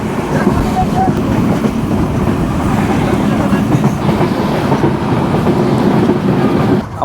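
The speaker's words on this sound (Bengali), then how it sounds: "আমাদের ট্রেন ঢুকতেছে বঙ্গবন্ধু সেতু।" Ekota Express train running onto Bangabandhu bridge, a steady heavy rumble and rhythmic wheel clatter close inside the carriage, continuous throughout with faint voices in the mix.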